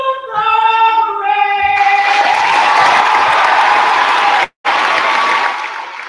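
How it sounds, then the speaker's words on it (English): A full high-school basketball gym crowd roars and cheers loudly and continuously, swelling over the end of a sung anthem with a brief cut partway through. "You hear the crowd going berserk behind me"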